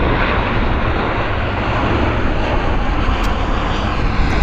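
Airliner at Vancouver International Airport taxiing and swinging around toward the ramp, its engines a loud, steady close roar that never lets up.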